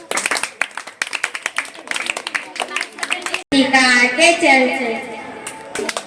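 A group of children at a home motivation class claps in a brisk, uneven run of sharp hand claps for several seconds, then voices take over, with a few claps still scattered under the talk.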